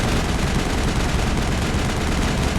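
Continuous heavy gunfire in a Mass Effect assault on Saren's base, a dense, unbroken barrage of shots filling the whole moment, loud and close, with no voices.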